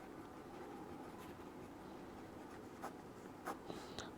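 Writing on paper with a pen while working a Class 11 math problem; faint, continuous scratching close by, with a few brief taps near the end and no speech.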